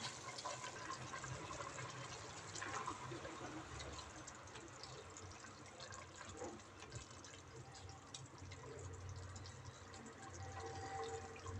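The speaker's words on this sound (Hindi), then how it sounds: "तो जी पानी बॉयल होना शुरू हो चुका है, तो साथ में डाल देते हैं चावल।" Rice tipped into a pot of boiling water for chana pulao, a continuous watery rush and bubbling churn at moderate level throughout, with faint background noise and no clear talk.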